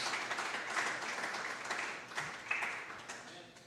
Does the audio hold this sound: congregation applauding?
yes